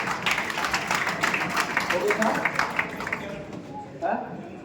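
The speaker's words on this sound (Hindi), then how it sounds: "तो बैठे आप एक बार इनके लिए तालियां बजा दिया" An audience at a school get-together claps for a group of students, a dense burst of many hands from a nearby crowd that fades toward the end, with a voice speaking over it.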